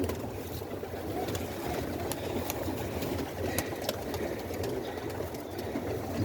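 Low pigeon cooing against a steady rumbling background hum, with a few sharp clicks; the birds sound close but soft.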